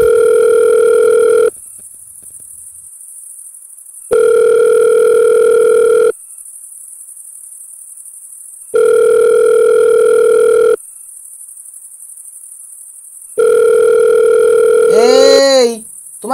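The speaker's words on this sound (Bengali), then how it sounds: "এই, তোমার ফোন বাজছে তো," A telephone rings with an electronic tone in four steady bursts of about two seconds each, separated by equal pauses. Near the end a quick warbling chirp cuts in.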